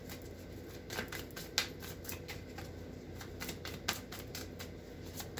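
Tarot cards are shuffled close by in quiet, with a run of crisp papery riffles and soft slaps that come in uneven bursts and include a few sharper snaps.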